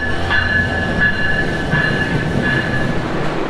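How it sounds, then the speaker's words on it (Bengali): A train pulling into platform two of a railway station, a steady rolling rumble with a thin high squeal from the wheels running throughout, moderately loud and close, with no voices over it. "প্ল্যাটফর্মটা অতিক্রম করলাম আর কি এখন আছে দুই নম্বর প্ল্যাটফর্মে এখানেই আসবে ট্রেন"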